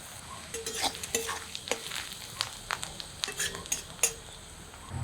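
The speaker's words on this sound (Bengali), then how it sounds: "কড়াইয়ের পেঁয়াজটা ভাজা হতে থাক" Onions fry in a kadai with bay leaves, dried red chillies, cumin and garam masala for mutton kosha, giving a soft sizzle broken by sharp metallic clinks and scrapes of stirring.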